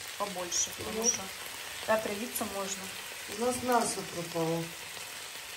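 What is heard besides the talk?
mushrooms frying in a pan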